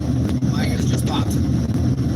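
Steady low rumble of road noise inside a moving truck in Mexico, constant and fairly loud, with faint whooshing wind over it.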